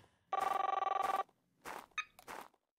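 A telephone rings with a trilling electronic bell burst, then pauses, followed by several shorter, softer tones and sounds, fairly quiet and close, with no talk over it.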